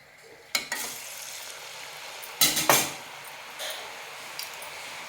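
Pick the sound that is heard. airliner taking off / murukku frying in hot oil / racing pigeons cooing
murukku frying in hot oil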